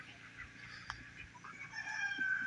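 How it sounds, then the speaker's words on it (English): Faint hens cluck softly in the background, with a rooster's crow rising near the end, all fairly distant and quiet. "I'm guessing the chickens got at their food."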